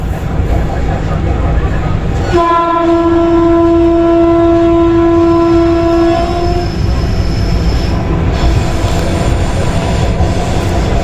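Vande Bharat train running on the Katra–Srinagar line in the Kashmir Valley, its horn sounding a long steady blast for about four seconds over continuous loud rumbling rail noise.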